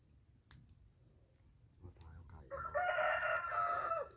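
A chicken lets out a few soft clucks and then a loud, drawn-out crow near the end, close by, with quiet talking underneath.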